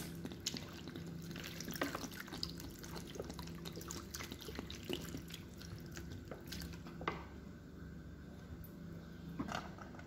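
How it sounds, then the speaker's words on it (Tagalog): Steady, faint running water trickles and splashes into a cooking pot, continuous throughout with occasional small knocks. "Dami-damihan na natin ng tubig."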